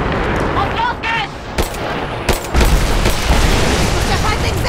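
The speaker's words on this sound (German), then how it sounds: "Wenn ich auf den Feuerball schieße, trifft die Explosion vielleicht den Heli." Gunfire in Rise of the Tomb Raider, aimed at a fireball near a helicopter, cracks in loud rapid bursts mixed with booming impacts amid chaotic battle noise and shouting voices.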